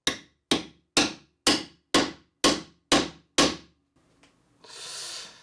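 Eight hard hammer blows strike a 3D printed part one after another in a steady rhythm, close and loud, followed by a short rustling hiss.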